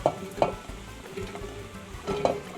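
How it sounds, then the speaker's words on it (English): Potatoes and carrots tumble into a hot soup pot with lentils, giving a soft sizzle and a few sharp knocks of pieces and utensil against the pot. "we're gonna add in all of our potatoes and carrots"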